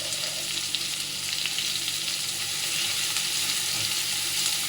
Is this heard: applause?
no